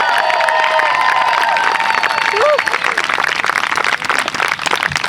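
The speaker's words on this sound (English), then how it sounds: "let's give a big round of applause for class of 2020" Applause and cheering from a crowd celebrating a high school graduating class of 2020 in Monticello, NY. Sustained, loud clapping is mixed with whoops, shouts and tonal whistles throughout.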